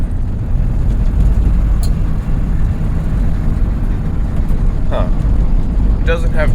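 Big Red Fred truck climbing a medium-grade hill, engine drone steady and loud inside the cab, with a faint downshift against the constant rumble and brief clicks near the end.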